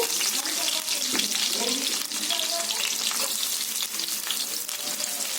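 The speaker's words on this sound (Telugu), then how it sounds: "వేడయ్యాక కట్ చేసి పెట్టుకున్న ఉల్లిపాయ ముక్కలు వేసుకున్నాము" Chopped onions dropped into hot oil with cardamom, frying in a steady loud crackling sizzle up close, with faint stirring scrapes, no talking.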